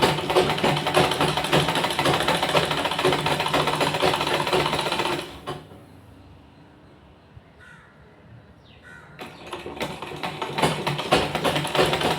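A sewing machine stitches blouse fabric in a loud, steady whirring run, stops for a few seconds of near quiet, then starts up again.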